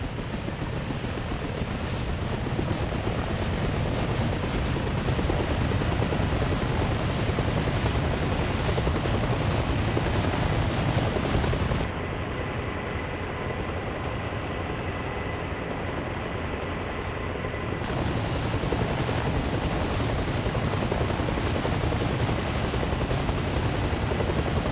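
A loud, continuous helicopter rotor drone mixed with heavy rushing wind from flying close to the ground in the game Arma Reforger, unbroken throughout with no voices.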